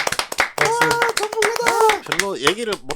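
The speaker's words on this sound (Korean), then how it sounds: "박수!" Clapping in a studio discussion, quick dense hand claps heard close and loud beneath people talking and laughing.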